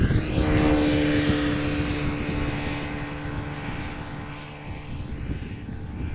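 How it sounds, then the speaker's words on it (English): An Embraer 190 airliner arriving at Amsterdam Schiphol Airport passes with a loud engine roar and whining tones that fade gradually as it moves away, then a low rumble lingers. "Embraer 190 arriving from Cardiff, flight 1060."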